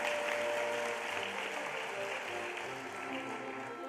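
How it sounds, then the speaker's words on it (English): Steady, moderately distant applause from an audience at a Henry County Schools Teacher of the Year ceremony, a dense even wash of clapping with no voices. "One more big round of applause."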